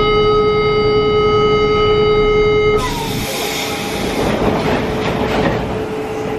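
A Buenos Aires subway train, a former Japanese car with its windows open, runs loud and close with a steady roar and rattle. A high motor whine drops away partway through, leaving broad rushing noise.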